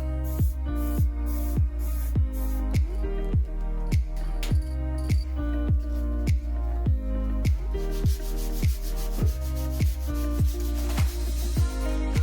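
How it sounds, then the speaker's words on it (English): Filler on a Suzuki RG125 motorcycle petrol tank being rubbed down by hand, steady rhythmic strokes roughly twice a second, close and fairly loud, with a hiss of abrasion building toward the end. "So I decided to rub it down again, try and get it nice and flat."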